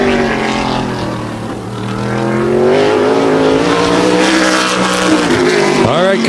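A tour-type modified race car takes the green flag during a qualifying session at Wall Stadium on Turkey Derby weekend, its engine a loud, continuous roar that dips briefly and then surges and holds.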